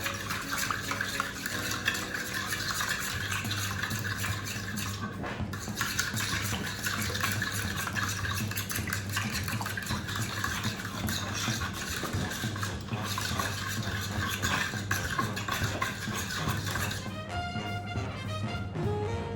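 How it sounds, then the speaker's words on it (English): Betty Crocker cake mix batter being stirred together in a bowl, a steady wet swishing and scraping that runs continuously at close range, with a low steady hum and some tonal background sound underneath and no talking. "So what I want to do now is mix all of this ingredient together."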